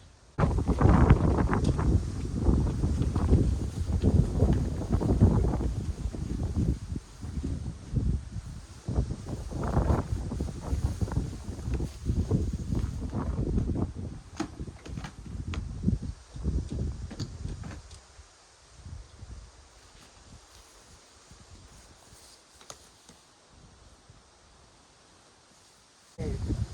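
Wind blows outdoors beside a Ford truck, with heavy gusty buffeting on the microphone and rustling over the first two-thirds, then easing to a quieter steady breeze.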